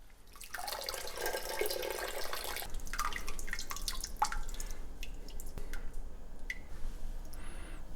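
Spent grain and hops from a homebrew beer boil drain into a pot, with a close gush of liquid that trails off into scattered drips and trickles.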